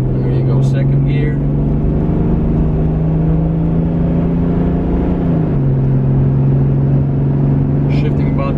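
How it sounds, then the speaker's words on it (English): Toyota Land Cruiser HDJ81V with the 4.2-litre 1HDT turbo diesel pulling through its gears, a steady loud engine drone that drops in pitch at a shift, with a voice talking over it. "Let's go ahead and see how it accelerates."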